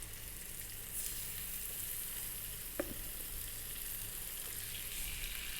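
Salmon steaks already coated in seasoned oil sizzling in a pan with no added fat, a steady soft hiss throughout with one small knock partway through, fairly quiet.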